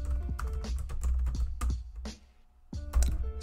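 Fingers type on a computer keyboard at a Linux CentOS 8 terminal, a close, irregular burst of clicky keystrokes with a short pause before a few final presses.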